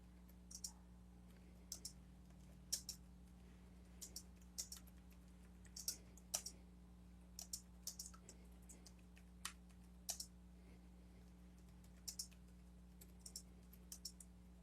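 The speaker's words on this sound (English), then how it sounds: "You see what I'm typing?" Keys clack on a computer keyboard in short irregular bursts of taps, close and fairly quiet over a steady low electrical hum, with no talking.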